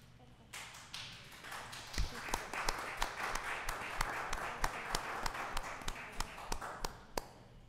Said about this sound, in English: Can I please get another round of applause for all the candidates?